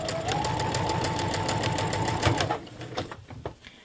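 A sewing machine hems fabric for a small drawstring bag, running in a fast steady mechanical whir for a few seconds, then stopping, leaving a couple of soft clicks and handling sounds up close.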